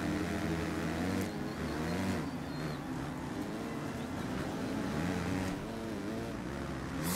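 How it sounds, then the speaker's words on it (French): Stock, unprepared Yamaha motocross bike engine in the MXGP3 racing game at the Matterley Basin track: a faint, continuous buzzing drone whose pitch repeatedly climbs and dips as the throttle opens and eases. "Je sais pas si vous entendrez bien le bruit du moteur, mais vous entendez qu'il n'y a pas de reprise quoi."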